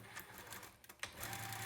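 Sewing machine running a seam across a quilt block strip, a quick soft whirring burst with light needle chatter, close but quiet, with a brief dip in the middle.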